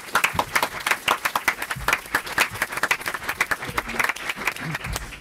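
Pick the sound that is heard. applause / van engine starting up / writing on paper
applause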